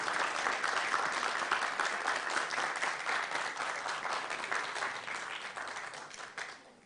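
Sustained applause from an audience at the final of a university privacy moot court competition, dense steady clapping that fills the room and gradually thins toward the end.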